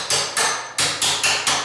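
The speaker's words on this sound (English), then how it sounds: "I'm just going to use my hammer sideways, not up regular, just sideways so I don't get too close to the door." A hammer taps a nail set to drive up the hinge pins of a tall sagging door, five sharp metallic strikes in an uneven rhythm, close and loud, with no talk.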